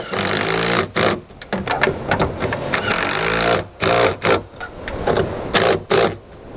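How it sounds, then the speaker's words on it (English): Impact wrench rattling as it tightens bolts on a towing mirror base on a Toyota Hilux: repeated loud, harsh hammering bursts of a second or so, separated by short pauses. "we nip them up then with the rattle gun"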